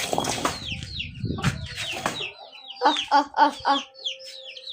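Hens clucking close by, a series of short, choppy calls with some birdsong and scuffling, ending in several louder rhythmic clucks.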